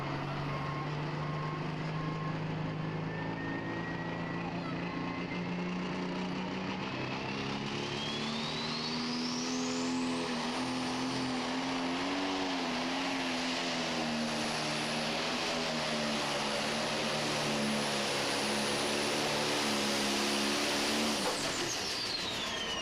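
A super modified pulling tractor drags a sled at a Goshen tractor pull. Its engine roars loudly and without a break, rising in pitch to a high, sustained whine as the tires spin and then grip, before cutting off at the end.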